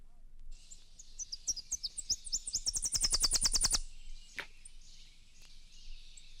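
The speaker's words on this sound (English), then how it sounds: "The ZZ song of this Tennessee warbler gets louder toward the end." A Tennessee warbler sings alone: a fast run of thin, high chips that speeds into a rapid buzzing trill and grows louder toward the end, then stops, leaving near-silence.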